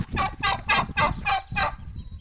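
A large turkey gobbling in a rapid run of about six harsh, rattling bursts close by, then trailing off into quieter farmyard noise.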